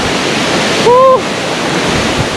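Yung Thong waterfall in Na Yung–Nam Som National Park, Udon Thani, roars loudly with wind-blown spray, a close, constant, heavy rush with buffeting wind and a brief faint tone in the middle.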